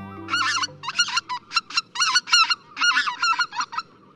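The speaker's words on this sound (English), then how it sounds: "The lilting voice of this goose inspired a nickname, the Laughing Goose." Greater white-fronted geese call in a rapid series of high, yelping, laughing honks, close and clear, repeating in uneven bursts over a low background murmur.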